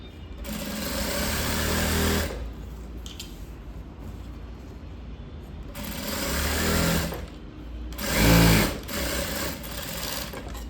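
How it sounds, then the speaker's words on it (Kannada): A sewing machine stitches a seam through folded fabric while tailoring a lined chudidar. It runs in three steady, loud whirring bursts separated by quiet pauses. "ಫೋಲ್ಡ್ ಮಾಡಿದ ನಂತರ ಒಂದು ಹೊಲಿಗೆ ಹಾಕೊಂಬನ್ನಿ ಈ ರೀತಿ"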